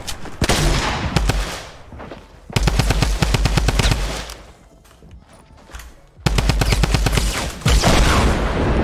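Tommy gun fire in the video game Fortnite: rapid full-auto bursts in three loud stretches, separated by a brief quieter lull, with no voices.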